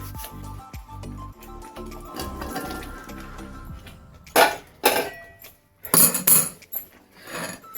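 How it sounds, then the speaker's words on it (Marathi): Water poured into a cooking pot of thick home-style gravy, coming as a few loud splashing bursts in the second half after quieter clinking of utensils. "पाणी घालूया"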